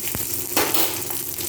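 Dried red chillies and panch phoron whole spices dropped into hot oil left from frying potatoes, giving a steady close sizzle with a sharper burst of crackling partway through, no voices.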